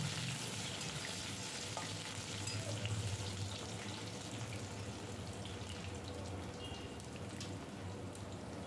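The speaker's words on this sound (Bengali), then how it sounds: "আলুটা একটু নেড়ে চেড়ে একটু ভেজে নেব।" Diced potato frying and being stirred in a pan of hot oil with spices, a continuous close sizzling crackle with faint scraping of the stirring utensil, no talk.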